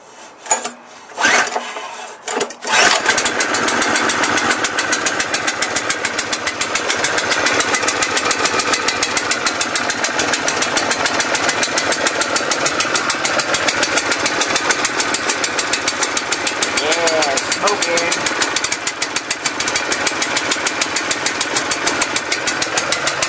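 A big petrol pressure washer engine cold-starts with a few pull-start bursts, then settles into a loud, steady, chugging run with throttle wide open and choke on, continuous and close for the remainder.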